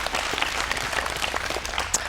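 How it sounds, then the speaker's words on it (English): Audience applause during a goal-setting and confidence session, a steady dense patter of many hands clapping at moderate level for the whole two seconds, with no talking over it. "so round of applause for that"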